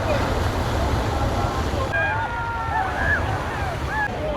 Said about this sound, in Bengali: আর একের পর এক ঢেউ আসছে পড়ছে কিন্তু সমুদ্র তটে